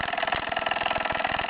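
A small Merit SEL 1540 Standard toy steam engine with its flywheel runs steadily, giving a fast, even mechanical chuffing rhythm that sits close and fairly quiet, with no talking.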